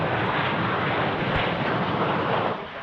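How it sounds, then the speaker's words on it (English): A landing airliner roars with loud reverse thrust at Sydney Airport, a dense, steady broadband rumble that stays strong throughout before easing slightly at the end, heard close with some wind buffeting. "reverse thrust on those bad boys, so loud"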